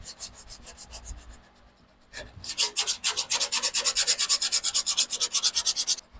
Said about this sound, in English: I'm just sanding the damn car.